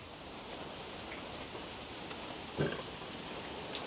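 Steady rain falls on a garden of bitter melon plants in containers, a soft continuous patter with a brief louder splash near the end and no voices.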